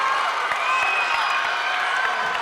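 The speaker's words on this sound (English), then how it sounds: "crowd has erupted" A basketball crowd at a CIAC state final game between Bacon Academy and E.O. Smith erupts in loud, sustained cheering and shouting, a dense roar with scattered claps and whoops.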